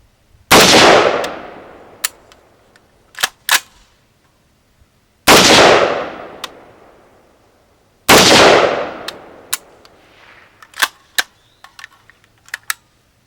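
Gunshots from a firearm fitted with an Andro Corp Crane Spec barrel during a test session, three loud separate reports with long decaying ring-outs, each followed by sharp metallic clicks and clanks from the action.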